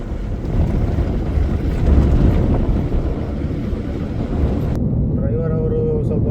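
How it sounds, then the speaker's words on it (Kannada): Cold wind rushes past the microphone on a foggy hill road during a drive from Kalasa toward Bajpe, a loud steady buffeting roar that cuts off abruptly near the end. "ಸೊ ಹಾಗಾಗಿ ಸ್ವಲ್ಪ ಇಲ್ಲಿ ಕೋಲ್ಡ್ ಗಾಳಿ ಬರ್ತಾ ಇದೆ."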